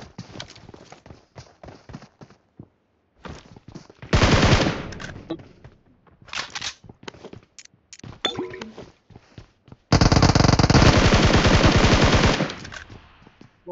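In PUBG Mobile, a gun fires two sustained automatic bursts, loud and rapid, separated by quieter scattered in-game sounds and footsteps.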